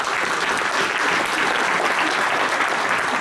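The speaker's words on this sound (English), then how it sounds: "those applause are for you, not for me" Loud, sustained applause from a large crowd at a Star Wars: The Old Republic Q&A at Gamescom 2014, a dense wash of clapping that holds steady throughout.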